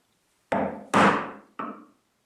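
Mallet strikes on a chisel chopping into wood to outline a nut mortise for a Moxon vise, three close, loud, woody knocks in quick succession, each with a brief decaying ring.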